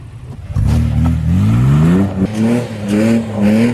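A 4x4's engine revs hard and close as it is slung sideways in two-wheel drive on the GEARUP 4X4 trail, the pitch climbing, dipping and surging again in quick bursts.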